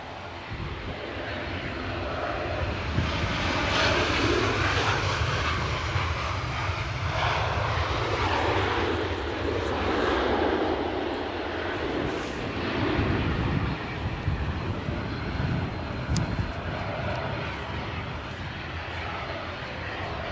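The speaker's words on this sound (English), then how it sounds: "So Ryanair 737." A Ryanair Boeing 737 jet at Edinburgh Airport on a windy day produces a loud, sustained engine roar with a rising and falling whine over twenty seconds, heard from nearby with wind noise underneath.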